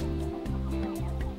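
Free-range homestead chickens clucking and murmuring close by, overlapping throaty calls rising and falling in short bursts with no talk.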